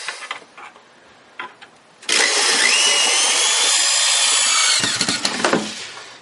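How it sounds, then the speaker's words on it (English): A power drill drives a screw into a wooden shelf, starting with a few short bursts and then running in one loud, steady whine for nearly three seconds before stopping with some clattering. "Now I'm going to lift the shelf up to the right spot. Get a screw in there."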